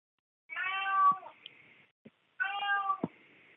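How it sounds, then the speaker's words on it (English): A cat meows twice, played through a phone speaker, two drawn-out cries separated by a short pause, clear and close with no talk over them. "I hear a cat in the background"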